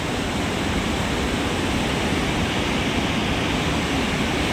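Floodwater released from a dam, about 11,000 cusecs, rushing in a dense, loud, unbroken roar that fills the whole clip with no pauses and no voices.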